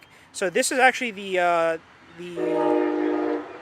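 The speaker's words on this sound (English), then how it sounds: "train's passing by" A passing train sounds its horn outside a 2006 Rolls Royce Phantom, with sustained, steady horn blasts following a nearby man's speech, fairly loud with harmonic tones.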